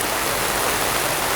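Steady rain falls with a dense, even hiss, continuous and uniform throughout, with no voices, near a wooden sailing ship's hardwood hull being readied for epoxy resin.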